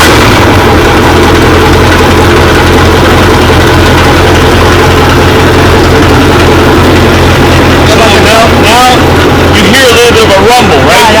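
A heavy boat engine with a noisy Alpha drive unit rumbles loudly and steadily at close range, its pitch rising and wavering near the end as it revs.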